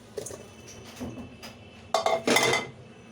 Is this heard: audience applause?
no